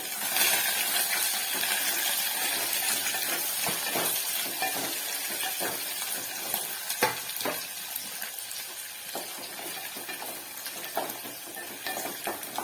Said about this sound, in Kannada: ಆಗಿರಲಿ ಚೆನ್ನಾಗಿ ಫ್ರೈ ಆಗಲಿ